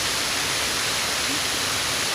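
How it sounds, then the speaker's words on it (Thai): Water rushes steadily at the Khao Sip Ha Chan waterfall in a national park in Chanthaburi, Thailand, a dense even hiss that stays close and unbroken for the whole moment, with no voices over it. "น้ำตกน่าเล่นมากเลยนะคะ เนี่ย"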